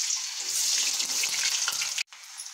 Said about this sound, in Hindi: तो ऑयल हो गया है गरम, अब मैं सबसे पहले आलू को फ्राई करूँगी।